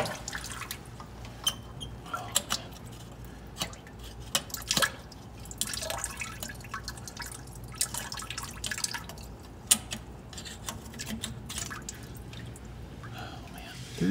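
Coolant dripping from a 1997 Mustang Cobra engine, many small irregular drips and taps over a steady low background, with faint murmured voices.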